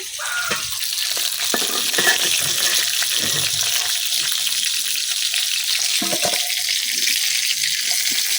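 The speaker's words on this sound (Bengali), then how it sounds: "মাছগুলা কিন্তু ভাজা হয়ে গেছে, এখন আমি উড়াই দিতেছি।" Pangas fish sizzles steadily in a frying pan during village cooking. The frying hiss is close and even throughout, broken by a few faint clinks and scrapes of stirring.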